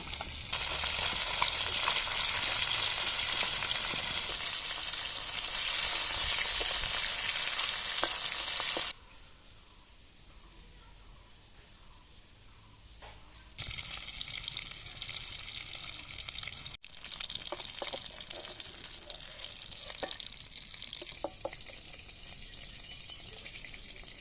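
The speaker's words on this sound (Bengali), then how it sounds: "মাছগুলো এক পিট ভাজা হয়ে গেছে এবার উল্টে নেব" Tilapia fillets frying loudly in hot oil, a dense steady sizzle that drops away while the fish are turned, then returns at full strength with scraping and clinks from the flipping.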